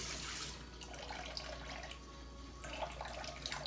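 Water runs from a tap in a quiet kitchen for a few seconds, a soft hissing trickle with a brief lull, as a small splash of water goes into a pan holding onion and lemons.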